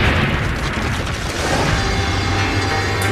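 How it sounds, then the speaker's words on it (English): A hand grenade detonating produces a loud, sustained roar of blast noise filling the whole short span, dense and rumbling from start to finish with no voices. "the grenade detonates."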